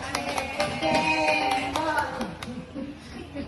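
Several people clap their hands in a quick, uneven burst of sharp taps lasting a few seconds. Voices are heard underneath, and the claps thin out toward the end.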